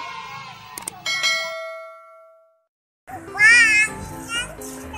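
A notification bell effect rings out with bright, ringing dings that decay away, followed after a short silence by a child's sing-song voice.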